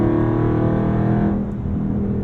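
A Dodge Charger Scat Pack Widebody's HEMI V8 holds a loud, deep, steady rumble, then eases off slightly partway through, close and alone with no talk.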